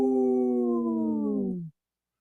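Human voices imitate wolf howls on a radio show, giving one long, sustained howl that slides slowly downward in pitch and then cuts off abruptly.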